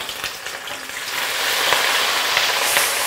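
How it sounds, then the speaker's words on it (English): A turkey deep frying in heated oil in a pot, a loud, steady crackling sizzle that swells slightly after the first second and holds without talk. "So we are deep frying this."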